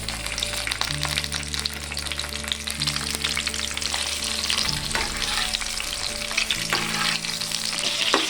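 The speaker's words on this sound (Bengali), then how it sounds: "আমি ঢেলে দেবো তেল আপনারা এটাকে ডুবো তেলেও ভেজে নিতে পারেন আবার হালকা মিডিয়াম তেলেও ভেজে নিতে পারেন" Eggplant pieces frying in a medium amount of oil give off a steady, close sizzle with crackling spatter throughout, and there is no talk.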